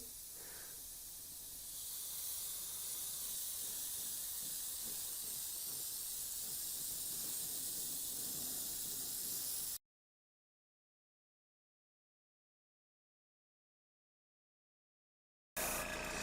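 Airbrush hisses steadily for several seconds, a soft continuous spray of paint onto a model rock and mortar texture from about six inches, then cuts to silence before a brief burst of hiss returns.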